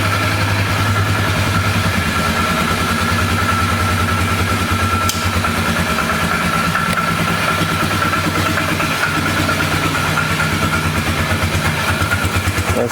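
A flood-damaged Polaris 325 ATV engine runs steadily and close by, a continuous mid-pitched idle with a constant rumble throughout and no talking.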